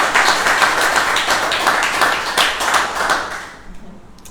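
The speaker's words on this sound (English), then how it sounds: "I'd like some applause for Barbados," A room of people at the Barbados Independent Film Festival press conference breaks into brisk, dense applause, many hands clapping at once, before it thins and fades out near the end.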